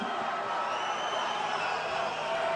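A large political rally crowd at the San Jose Convention Center cheers and whoops continuously, a dense roar from many voices at a moderate distance.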